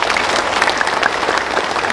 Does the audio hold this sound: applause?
yes